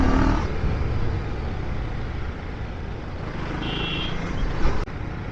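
Steady wind and road roar while riding a 2024 Husqvarna Svartpilen 401 motorcycle through the city, a loud continuous rushing hum with engine drone beneath, briefly swelling near the end.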